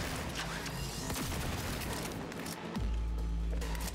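A power gun in Cyberpunk 2077 fires in a rapid burst of sharp shots over constant game noise, with heavier booms toward the end.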